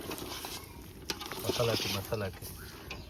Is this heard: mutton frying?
yes